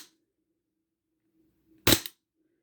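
A single sharp gas-powered shot from a SIG SAUER P226 airsoft pistol, loud and isolated after near silence, with a short rattling tail from the slide.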